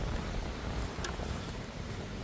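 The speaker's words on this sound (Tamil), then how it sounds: "பார்த்தீங்களா எப்படி காற்று அடிக்குதாண்டு" Strong wind blows across a beach near Nagercoil, making a constant, loud roaring rush that buffets the microphone throughout.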